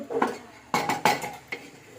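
A spoon stirs rice, lentils, chopped onion and dried chilli in a pressure cooker for khichuri, making scraping sounds and several sharp metallic clanks against the pot, close and fairly loud.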